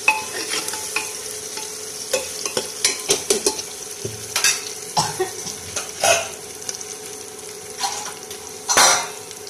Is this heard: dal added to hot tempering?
yes